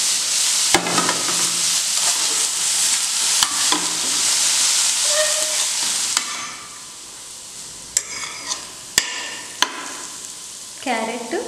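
Sliced carrot and green chillies sizzle and fry in a pan with steady crackling, while a spoon stirs and scrapes the pan in brief sharp clicks; the frying quiets partway through, followed by a few louder clinks.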